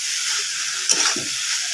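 Potato masala frying in a pan as banana flower is added, giving a steady sizzling hiss with one sudden louder burst of crackle partway through. Close and short, with no voices.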